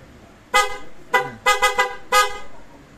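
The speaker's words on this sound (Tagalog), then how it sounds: "At meron na rin yan na PIAA with selector, pabusina nga po." An aftermarket PIAA horn on a car gives four loud, close honks: one short blast, a second short blast, a quick stuttering double, and one longer final toot.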